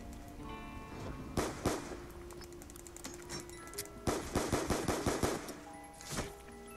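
Black Ops 2 gunfire comes in short bursts and single cracks, with a rapid automatic volley midway, over quiet game background noise and no talking.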